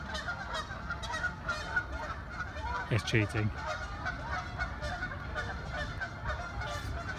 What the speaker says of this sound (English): An island of geese.